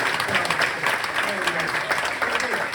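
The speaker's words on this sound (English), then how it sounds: "at them, clapping themselves" Volunteers at a stand-up comedy night clap for themselves, giving a busy crowd applause that continues steadily throughout.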